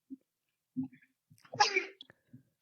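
A single quick sneeze bursts out between faint murmured sounds, close and brief, with quiet gaps before and after.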